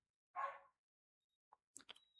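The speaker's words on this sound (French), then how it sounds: "On va laisser le chien aboyer, je crois, derrière." Distant dog barks faintly in the background, one short bark followed after a pause by a couple of quick yips in otherwise near silence.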